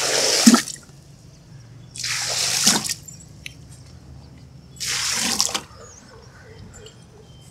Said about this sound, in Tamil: இப்போ நம்ம தண்ணியை ஊற்றணும்